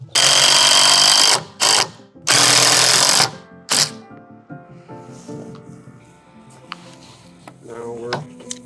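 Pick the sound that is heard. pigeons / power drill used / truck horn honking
power drill used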